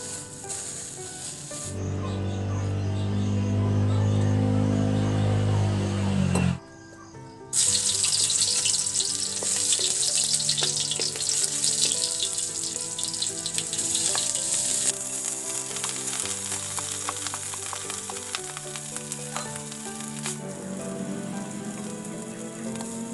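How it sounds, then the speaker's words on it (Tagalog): Day-old leftover rice frying in a pan for Filipino garlic fried rice, a loud steady sizzle that carries on continuously, briefly cutting out partway through before resuming, with no talking. "Bahaw na isasangag sa umaga."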